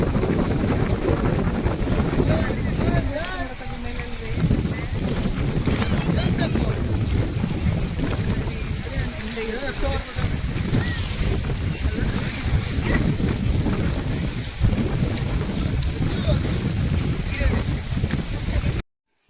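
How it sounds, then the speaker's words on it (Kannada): Water waves at the KRS backwater lake near a temple lap continuously against the shore under strong wind buffeting the microphone, with a person talking throughout. "ಆ ನೀರಿನ ಅಲೆಗಳ ಸೌಂಡ್ ಅಂತೂ ನೀವೇ ಕೇಳಿಸ್ಕೊಂಡ್ರಿ ಹೆಂಗಿದೆ"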